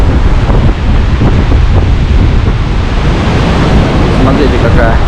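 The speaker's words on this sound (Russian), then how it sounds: "Ветроган такой. Красивые волны." Stormy wind roars across the microphone over crashing sea surf on the beach at Lazarevskoye in bad weather, a loud, continuous rush with no letup.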